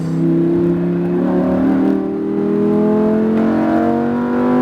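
A Lamborghini Huracan's engine accelerates on a racetrack, a loud, steady roar whose pitch climbs smoothly across several seconds, with no talk over it.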